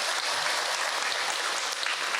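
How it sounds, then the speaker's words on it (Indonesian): An audience claps for a preacher at an Islamic religious talk, dense steady applause throughout, with no speech over it. "Tepuk tangan Bu untuk Kak Hilman."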